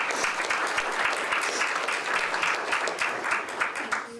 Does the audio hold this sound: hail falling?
no